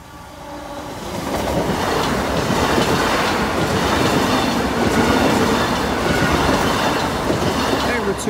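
An HOBC train passes Boultham level crossing, its loud rumbling rise a second in settling into a close, continuous roar with rhythmic clickety-clack of wheels over the rails.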